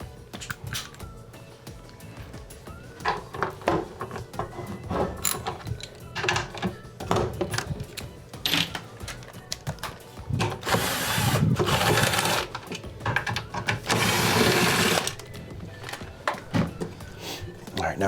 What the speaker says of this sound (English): There's two bolts that hold the motor in place, and it's going to be a 1/2 inch socket.